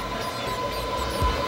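Subway train running along a track in the Roblox MTA Subway Train Simulator game, a steady low rumbling rail drone with a faint tonal hum, swelling briefly near the end, with no talking.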